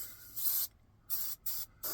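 Short bursts from an airbrush spraying paint onto a 1/25 scale '72 Gran Torino Sport promo model car at about 30–35 psi, three quick hissing blasts with brief pauses between, close and steady.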